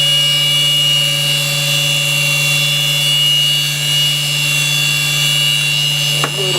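A CNC spindle head milling a double-sided PCB, a steady high-pitched whine with strong tonal hum, loud and constant, briefly shifting near the end.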